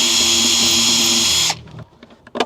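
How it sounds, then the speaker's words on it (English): A power drill whines steadily as it bores bolt holes for an Amphenol connector on an electric dinghy, then stops abruptly, leaving faint clicks and handling noises. "I just drilled 4 holes for the 4 bolts for this Amphenol connector."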